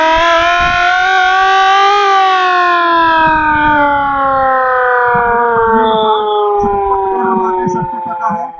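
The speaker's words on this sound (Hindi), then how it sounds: "सबको पता है इस खतरे का साइरन है" A civil defense danger siren wails continuously, loud and close, during an emergency drill at a police lines ground in Moradabad. Its tone rises slightly, then slowly falls, with background clatter and a hint of distant voices beneath it.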